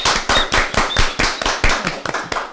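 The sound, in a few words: audience applause welcoming a guest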